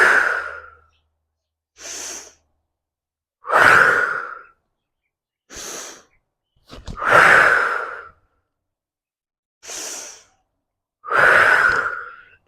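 Forceful exhaled breaths during a squat exercise, seven bursts about every two seconds alternating louder and softer, close and alone.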